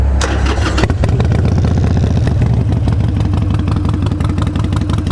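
Harley-Davidson Sportster 883 Low motorcycle cranks briefly, then fires and settles into a loud, close, lumpy idle with a steady rhythmic beat.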